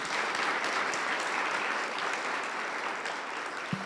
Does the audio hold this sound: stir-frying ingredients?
no